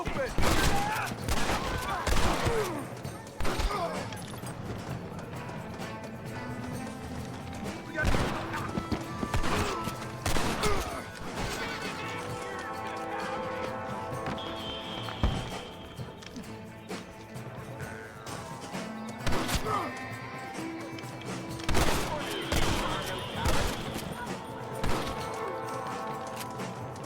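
Scattered gunfire in Red Dead Redemption breaks out in repeated cracks and short volleys across a busy western scene, with hoof clatter and voices mixed in at moderate loudness.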